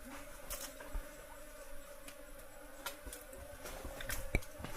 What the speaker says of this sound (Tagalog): Dami pong nadalang bubuyog.